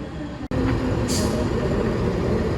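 The CC 206 locomotive hauling the Gajayana train idles at a station with a steady, low diesel rumble, broken by a brief hiss of air shortly after one second.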